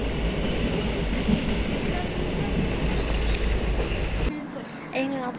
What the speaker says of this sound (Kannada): ಎ ಸಿ ಟ್ರೈನ್ ಅದು ಹೊರಡಿತ್ತು